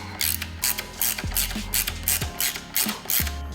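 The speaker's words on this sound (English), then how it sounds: "So I'm gonna go ahead and tighten up the brake hose bolt." A ratchet tightens the brake hose bolt on a Ducati 959 Panigale motorcycle. It gives close, rapid clicking runs in repeated short strokes with brief pauses between them, and no one talks.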